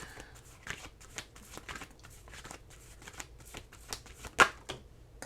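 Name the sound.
shuffling oracle cards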